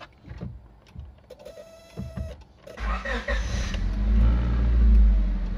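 A used car with automatic transmission and about 221,000 km on the clock idles, then its engine rumble swells into a deeper, louder drone as it revs, heard up close after a few mechanical clicks and whirs.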